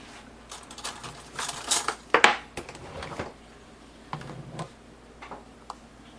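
A metal spoon clinks and rattles against other cutlery in a kitchen while cocoa mix is being made, giving a quick burst of close, bright clatter followed by a few softer taps.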